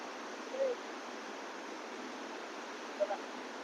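Steady, broad rushing roar of water pouring out of the Sant Chokhamela reservoir in Buldhana, constant and moderately distant, with faint brief voices of a crowd barely audible.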